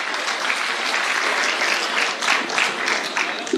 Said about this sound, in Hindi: जोरदार तालियों से उनका इस्तकबाल किया जाए।